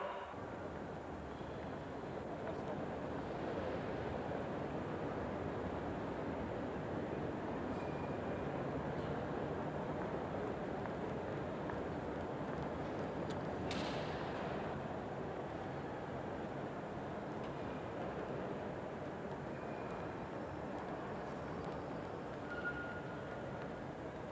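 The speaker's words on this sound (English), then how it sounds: "Train 9019 from Paris, due at 12:13, has now arrived." A train from Paris rumbles steadily as it arrives at a station, a broad low roar lasting the whole stretch with a faint metallic squeal midway, no voices heard.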